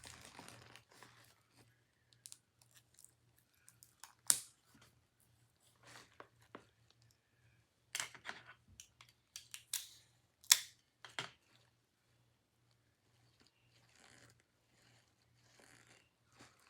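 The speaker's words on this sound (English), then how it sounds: "Get those bath bombs secured down with some tape." Tape pulled and pressed down to hold bath bombs in place in a gift, quiet crinkling and tearing bursts at irregular intervals, close and soft.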